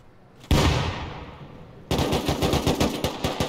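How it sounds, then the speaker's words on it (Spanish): Gunfire in the video game Rust: a single loud shot rings out and decays, then a rapid burst of automatic fire follows, close and sharp, with no talking. "Mira, ahí ya está disparando a alguien."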